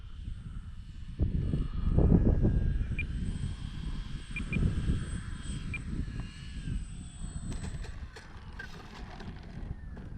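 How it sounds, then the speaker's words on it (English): Strong gusting wind roars and buffets outdoors while an Arrows Bigfoot RC airplane flies on a very windy day, its faint electric motor whine rising and falling over the steady low rumble of the wind. "that wind is kicking her around"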